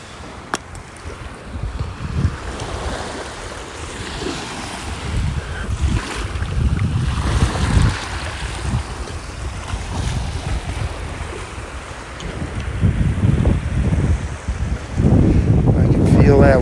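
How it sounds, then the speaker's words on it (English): Steady wind gusting on a cloudy beach in North Naples, Florida, roaring into the microphone with surf washing behind it, rising stronger toward the end. "Feel that wind cutting through me now, cutting through my sweatshirt."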